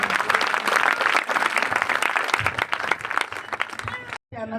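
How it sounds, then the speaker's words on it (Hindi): A church congregation breaks into loud, sustained clapping that fills the room, with a voice speaking over it before the applause stops abruptly at the end. "यीशु मसीह की जोरदार तालियां बजाएंगे।"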